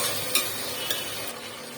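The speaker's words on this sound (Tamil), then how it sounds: "நல்லா இது வதங்கட்டும்." Tomatoes and masala sauté in a hot pan, a soft continuous sizzle broken by two brief clinks of a stirring spoon, close and quiet with no voices.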